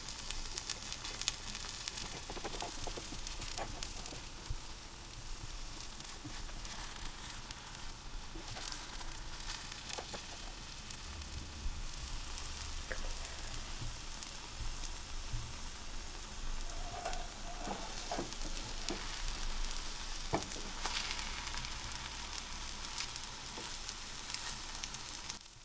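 Indian omelette of beaten eggs cooking in a pan, giving a soft, even, continuous sizzle that holds steady throughout, with no voices and only a few faint clicks.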